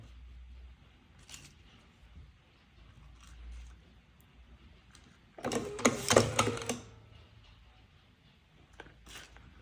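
An OCB Micro Matic electric slim cigarette rolling machine gives a short, loud mechanical whirring burst of about a second, surrounded by a quiet room with faint clicks.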